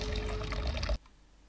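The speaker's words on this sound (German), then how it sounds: "plätschernde Brunnen sorgen für die entspannte Begleitmusik" Water from a town fountain splashes and pours steadily, close and fairly loud, then cuts off abruptly to quiet background.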